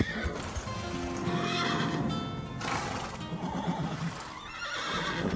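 Several horses whinny and neigh loudly and close by, with hooves clattering and shuffling underneath throughout.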